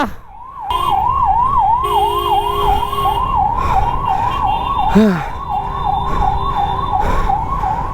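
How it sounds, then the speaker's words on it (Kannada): A nearby ambulance in Bengaluru traffic sounds a continuous rising-and-falling siren wail over engine and road noise, with a brief extra horn-like tone cutting in partway through. "ಸರ್ ಆಂಬುಲೆನ್ಸ್ ಇದೆ, ನಿಮಗೆ ಗೊತ್ತಾಗಲ್ಲ ಅಂದ್ರೆ ಹೆಂಗೆ ಬರೋದು ನಾವು?"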